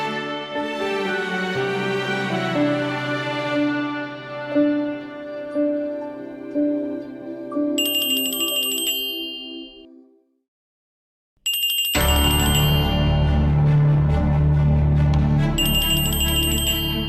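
An electronic phone ringtone plays a loud, repeating tonal melody with bright high chimes, stops briefly into silence, then starts ringing again with a fuller sound; no one speaks.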